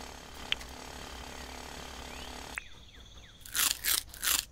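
A drill in the video game Dinkum grinds with a steady mechanical whir that cuts off midway. A few loud crunching bursts follow, with no talking.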